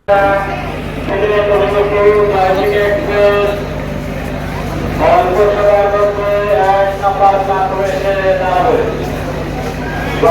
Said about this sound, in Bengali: জয়ন্তিকা এক্সপ্রেস সেদিন রাইট টাইমেই ছিল সঠিক সময়ে ঢাকা বিমানবন্দরে প্রবেশ করে